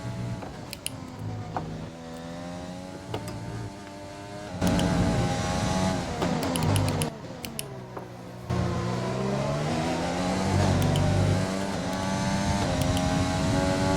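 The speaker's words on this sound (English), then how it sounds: "Using as much ERS as I can to try and catch up to this pack" Formula 1 race car engines in the F1 2020 video game, high revving whines climbing and dropping through gear changes, with louder bursts as other cars close in and pass nearby.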